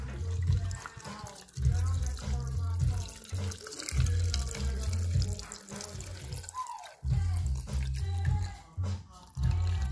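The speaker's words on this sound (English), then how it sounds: "put them into our nice clean pickle jar and douse it with vodka" Vodka is poured into a clean pickle jar over roasted peppers, making a gurgling liquid stream close by, interrupted by brief pauses, with a low rumbling hum beneath.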